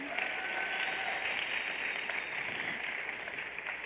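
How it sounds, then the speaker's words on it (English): Sustained audience applause at a talk on representation in beauty, a dense steady wash of clapping holding at even loudness with no voices on top. "A huge round of applause,"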